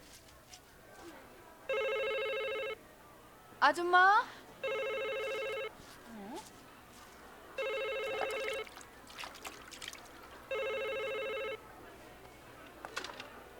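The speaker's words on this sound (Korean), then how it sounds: "전화 좀 받아봐요." A telephone in a Korean home rings in four evenly spaced electronic bursts, loud and near, while a woman calls out briefly between the rings.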